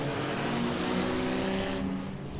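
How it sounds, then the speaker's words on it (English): Enduro race cars roaring away together at the green-flag start of a race at Langley Speedway, a dense, loud wall of engine noise that eases slightly near the end. "Green flag action at the Langley Speedway Cooks Moving Service Enduro race."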